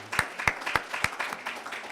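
A small group at a workplace anniversary recognition gives a few scattered claps, light and sparse, with distinct individual hand claps for under two seconds.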